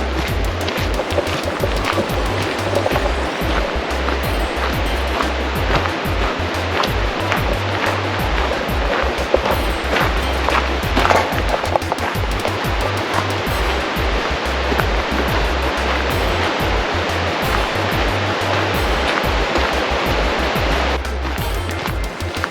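A steady roar of rushing water from a waterfall near Seward, Alaska, in rainy weather, loud and continuous throughout with no voices.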